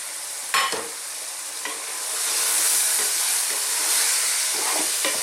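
Turmeric, coriander and cumin powders sizzle steadily in a pan over above-medium heat while being stirred constantly, a close, continuous frying hiss broken by a few sharp scraping stir strokes.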